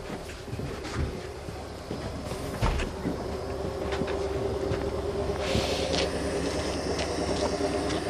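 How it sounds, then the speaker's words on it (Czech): A train rumbles past in a Wallachian village setting near Brumov, a steady broadband roar with faint clicks and a tonal hum, moderately loud and sustained throughout without talk. "tam je vlak"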